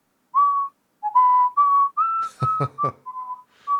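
NPC workers in the video game's town of Fortuna whistle a chain gang tune: a clear, close melody of sustained and gliding notes, with a short burst of clanking strikes partway through.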